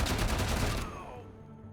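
Rapid burst of automatic gunfire in the video game Wasteland 3, loud and close, rattling for under a second before ringing off into a fading echo.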